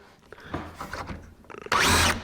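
A power drill bites into a wooden spice rack in one short, loud whirring burst at the end, after a few soft scrapes and knocks of handling the wood.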